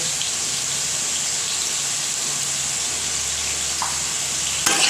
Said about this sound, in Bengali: এবার ভালো করে নাড়িয়ে ভাজা ভাজা করে নিলেই কিন্তু হয়ে যাবে।